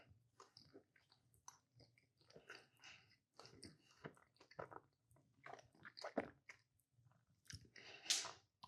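Close, soft chewing of an Oreo-topped donut with no crunch, moist squishy bites and mouth sounds in irregular bursts, louder near the end.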